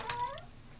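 A house cat meows once at a closed door, a short, rising and falling cry close by and fairly quiet, with no talk.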